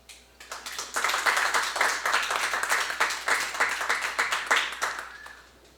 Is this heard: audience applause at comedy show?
yes